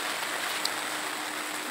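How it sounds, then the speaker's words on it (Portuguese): Rain falls over the city of Sobral, Ceará, a moderate but soaking shower heard as a dense, even hiss of drops on wet streets and surfaces, steady throughout with no talking. "Chuva, cidade molhadinha, desde manhã cedo."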